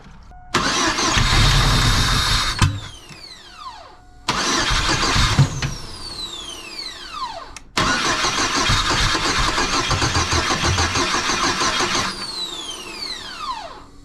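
A GMC Sonoma truck engine cranks in three separate attempts, each a loud, steady churn that stops abruptly, the last one running longest, without ever catching.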